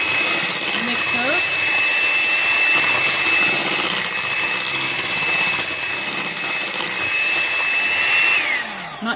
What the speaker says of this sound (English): I'll hit it real quick with my mixer